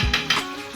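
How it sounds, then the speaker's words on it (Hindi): Ginger-garlic paste hits hot tempering oil in a kadhai for village-style kadhi pakora, giving a quick hiss and sizzle with two sharp scraping clinks of a spoon, close and brief. "अब ये मैं अदरक और लहसुन का जो पेस्ट मैंने बना कर रखा था मैं डाला"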